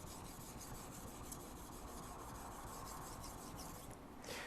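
A knife is finish-sharpened on a 1200 grit Boride PC aluminum oxide abrasive stone, making a continuous close, soft scraping rub with no speech.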